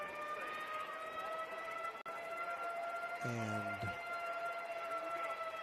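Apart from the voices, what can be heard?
weather alert siren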